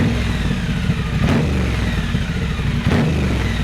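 A motorcycle fitted with a British Customs Predator Pro Shorty 2.0 exhaust rumbles steadily with a deep, low tone, swelling in two brief revs, loud and close, with no talking.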